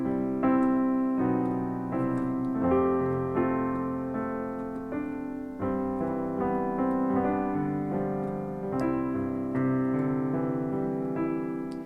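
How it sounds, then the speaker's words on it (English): Piano playing O Little Town of Bethlehem with the left-hand chords broken into flowing arpeggios beneath the melody, a steady, gentle stream of notes at moderate volume with no talking. "instead play them like this, kind of as arpeggios"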